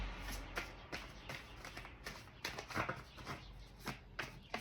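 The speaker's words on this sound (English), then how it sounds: "Let's shuffle up Cancer and see what's going on." Tarot cards being shuffled by hand up close, giving a run of soft riffling and tapping bursts in an irregular rhythm, quiet and without talk.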